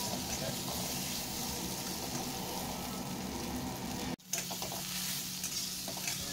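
Soybean chunks frying and being stirred in a pan give a steady, dense sizzle that runs throughout, with a brief dropout near the end and clattering stirring noises around it.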